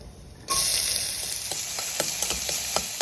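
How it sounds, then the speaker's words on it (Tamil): Finely chopped onions and cumin sizzle steadily in hot oil in a kadai, with soft periodic scraping taps of a utensil stirring the pan. "ஒரு கடாயில் எண்ணெய், ஜீரா, பொடிப்பொடியாக நறுக்கிற வெங்காயத்தை போட்டு வதக்கிங்கோ."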